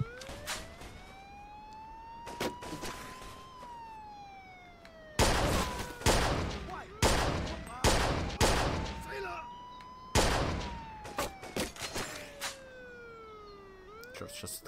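Bursts of gunfire in the video game Mafia 2, several sharp shots and rapid volleys heard over a wailing police siren that rises and falls throughout.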